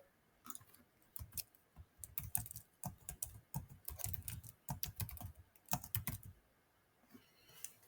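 Quiet keystrokes on a computer keyboard come in quick bursts of clicks with short pauses between them as text is entered, close and soft, with no talking.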